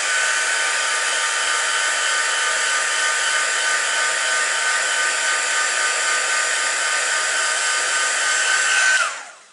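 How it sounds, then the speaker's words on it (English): A heat gun runs for heat embossing on a stamped card, producing a loud, steady, close-up blowing roar that stops abruptly near the end. "And I can see I'll heat emboss this first."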